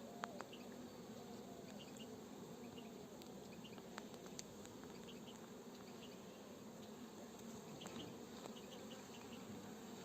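Honeybees buzzing steadily at a beehive, a dense, continuous hum of many insects close by that stays even throughout, with no voices.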